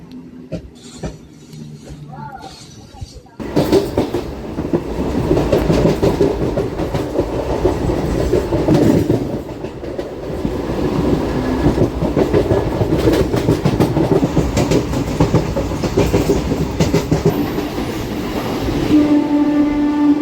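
A MEMU train running between Renigunta and Nellore, heard from inside the coach: a loud continuous roar with rhythmic clickety-clack of wheels on rail joints, a horn blast sounding partway through, and a quieter opening before the noise surges.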